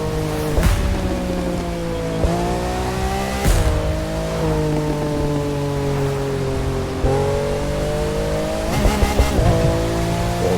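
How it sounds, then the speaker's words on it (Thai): A Lamborghini Aventador LP700-4 in the racing game The Crew 2 revs hard and loud, its engine note climbing steadily through each gear, with sudden drops at the shifts and a constant rush of road noise underneath. "รอบ ก็แรงอยู่นะฮะ ใช้ได้นะ โอ้โหเสียง เสียงโหดมากครับเนี่ย"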